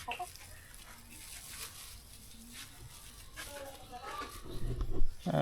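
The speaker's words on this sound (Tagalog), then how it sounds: "Guys, may manok tayo dito." A farmyard chicken, pecking at spaghetti, clucks in short soft bursts amid outdoor background noise, with people talking nearby and louder rustling near the end.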